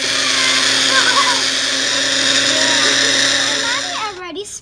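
An electric blender or mixer whirs steadily as it mixes pink pancake batter at home, a loud continuous motor drone that runs for about four seconds before cutting off abruptly.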